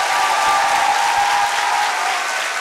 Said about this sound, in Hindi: खड़े होकर तालियां बजाएं अपने पेरेंट्स के लिए आज